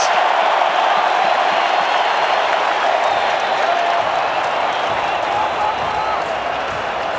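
A rugby sevens stadium crowd at the Cape Town Sevens roars and applauds in a dense, steady wash of cheering, loud and continuous throughout with no pause.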